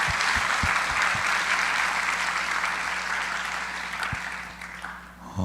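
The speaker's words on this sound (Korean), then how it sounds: "하나님께 이 시간 감사의 박수를 먼저 올려드리고 싶습니다" A church congregation at a young adults' worship service claps in thanks, sustained dense applause that holds steady and then gradually thins out toward the end.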